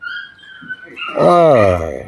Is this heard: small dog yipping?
yes